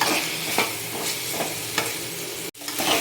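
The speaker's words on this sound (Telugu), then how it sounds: "పచ్చిమిర్చి కూడా వేసేసుకోండి ఇవి కొంచెం మగ్గనివ్వాలి" Green chillies fry in a pan with a loud, continuous sizzle, broken by regular scraping strokes of a spoon stirring them and one brief sharp dropout near the end, close up with no speech.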